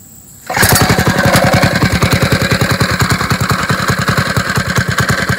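A 99cc Coleman small engine fitted with an RLV Mini 91 slip-on silencer starts after a brief quiet moment, then runs at a steady idle with a loud, even, rapid exhaust pulse and no talking.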